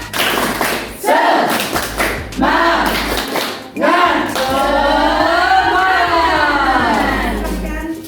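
A classroom of students performs a rhythmic spirit clap, bursts of clapping and thumps alternating with loud group chanting voices.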